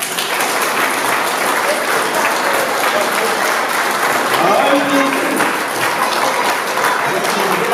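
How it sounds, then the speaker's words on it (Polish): Sustained audience applause fills a hall at a Kresowian gathering, a dense, even wash of clapping from many hands lasting throughout, with no pause. "dla nich wielkie brawa"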